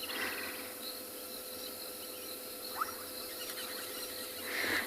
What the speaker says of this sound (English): You can hear all the frogs.